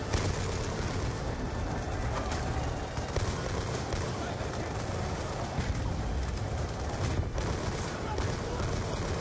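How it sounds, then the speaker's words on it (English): Continuous gunfire from the video game Black Ops II, a dense, steady barrage of shots filling the whole stretch at even loudness, with no talk over it. "This gun has a lot of recoil"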